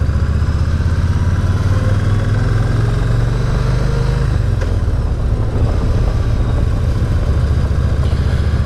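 A 2018 Yamaha Star Eluder touring motorcycle engine while riding, a loud steady low rumble with wind noise and a slight pitch change midway as the bike shifts and pulls on.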